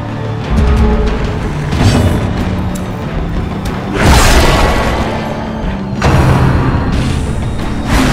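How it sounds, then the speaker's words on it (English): A deep, heavy ground-quake boom from the Darkest Dungeon video game rolls loudly through the battle, rising in a few broad surges over a dense rumbling bed with no voices. "The ground quakes."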